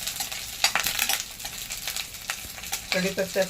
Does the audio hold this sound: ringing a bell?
no